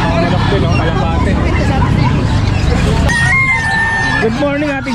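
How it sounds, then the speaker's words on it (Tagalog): Chickens crow and cluck at a busy outdoor livestock market where goats and pigeons are also sold, a rooster's call rising clearly over steady crowd babble and background chatter. "Manok din oh, kalapate."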